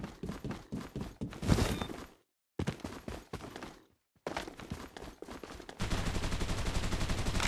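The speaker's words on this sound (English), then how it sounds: "Exchanging fire." Rapid bursts of gunfire from an exchange in the battle royale game Farlight 84, loud and close, broken by two short silent gaps before a dense sustained volley near the end.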